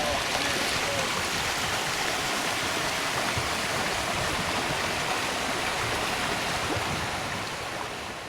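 A narrow mountain creek rushing steadily over rocks through a cut, a dense, continuous watery roar that fills the whole clip, close and loud with no voices.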